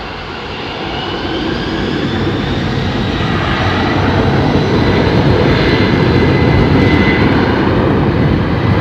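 Aircraft engine noise from a plane landing at London Heathrow Airport, a broad, steady roar that swells gradually louder across the stretch, with a faint whining tone above and no talking.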